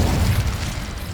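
A fire spell blast cast in Hogwarts Legacy, heard as a loud, full low boom that rumbles briefly and then settles into a sustained roar with no voices.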